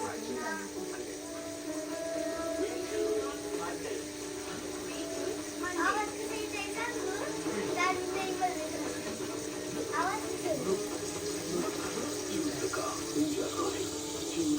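Water running from a tap into a container, a steady splashing flow under background chatter and children's voices.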